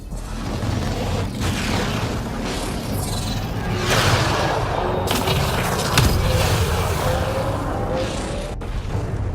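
Deep rumbling explosion as an enemy ship is destroyed in the Mass Effect Andromeda video game, a loud sustained boom with whooshing debris and mechanical noise, dense and continuous throughout.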